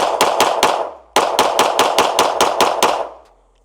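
A Springfield Hellcat Pro Comp pistol fires in rapid strings: four quick loud shots, a short gap, then about nine more sharp reports in fast rhythm, close and dominant with no talk.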